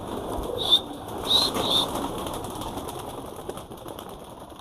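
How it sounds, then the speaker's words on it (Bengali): Pigeons being trained give soft coos and a few brief bursts of wing flapping nearby, with short chirpy peaks over a quiet outdoor background and no talking. "আর এই যে আমার পায়রা উপরে উঠছে"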